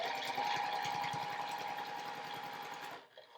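A sewing machine chain pieces quilt blocks in one steady, fast hum of stitching with a thin whine, running for about three seconds before stopping abruptly into quiet.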